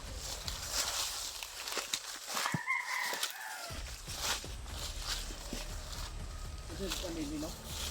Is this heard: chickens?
yes